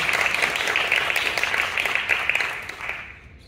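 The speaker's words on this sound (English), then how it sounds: "Let's give this band a little big round of applause for all the work." An audience applauds a Post's Corners school band with a dense, steady wash of clapping that holds strong for about three seconds, then thins and fades away at the end.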